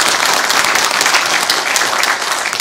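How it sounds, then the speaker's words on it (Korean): An audience at a Gwangju Nam-gu party delegates' convention gives dense, continuous applause, loud and close, holding steady through the whole stretch. "우리 저 김내연 우리 의원님께 박수 한번 쳐주시죠."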